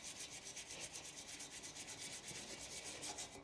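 A brush scrubs paint stripper over the steel fuel tank of a 2009 Yamaha R6, making a steady, close, rhythmic rubbing with regular strokes and no talk.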